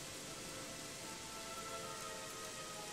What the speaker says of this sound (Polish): Aha, deszcz, o nie. Mamy deszcz, tak?